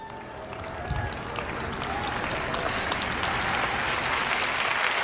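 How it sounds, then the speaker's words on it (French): A church audience at a sermon breaks into applause, rising from a voice over light clapping into a dense, steady wash of many hands that keeps building. "Vous n'êtes pas enthousiasmé, mais vous applaudissez au moins."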